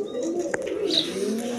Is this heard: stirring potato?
no